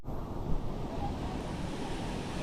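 Bulawan Falls pouring hard, a constant broadband rush of falling water heard close and steady for the whole stretch, with no voices over it.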